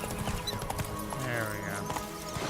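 The horse Roach gallops in The Witcher 3, hooves clip-clopping rapidly with a brief whinny, while someone talks over it.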